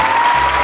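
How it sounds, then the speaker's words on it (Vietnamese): An audience claps on a Vietnamese game show, a short burst of dense, steady applause close by. "Vỗ tay."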